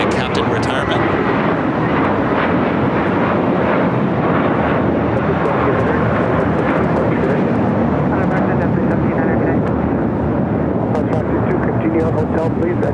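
Alaska Airlines Boeing 737-900ER from Portland landing at LAX, its jet engines giving a loud, steady roar that holds throughout under a person talking.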